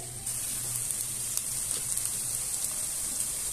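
Onion being stirred and slowly fried in a pan over low heat for a duck curry, giving a steady soft sizzle with faint scraping under a low hum.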